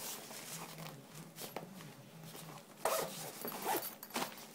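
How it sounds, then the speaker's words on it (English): A zipper closes on a diabetes supply bag that holds testing supplies and low blood sugar treatment, giving quick close scratchy pulls and small rustles of handling with no talk. "The tester is able to snap out at the top and fold in"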